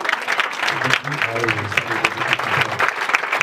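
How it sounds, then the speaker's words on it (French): Church service crowd clapping and cheering for Jesus, dense continuous applause with shouts and voices mixed in, loud and close throughout. "Si tu acclames pour Jésus, Dieu te bénira"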